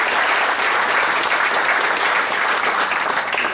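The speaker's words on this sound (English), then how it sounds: "give a round of applause to everybody" Steady, dense applause from a crowd at an annual meeting, continuous clapping throughout with no pauses.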